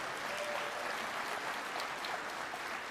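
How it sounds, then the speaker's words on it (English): An audience at an Indigenous international educational conference applauds steadily, a dense wash of clapping that holds level from start to finish with no voices rising above it. "Let's give them a round of applause"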